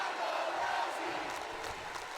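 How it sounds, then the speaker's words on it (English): In a WWE 2K22 women's wrestling match, a virtual arena crowd roars in a broad, steady wash of cheering and noise, fairly faint and distant, with no commentary heard over it. "this crowd is definitely behind the rowdy one"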